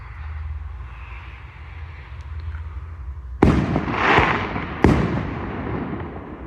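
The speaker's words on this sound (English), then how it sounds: "No surprise with them fireworks," Fireworks bursting outdoors at night near a graveyard on Halloween: two sharp loud bangs a second apart, each with a rumbling crackling tail, over quiet background noise.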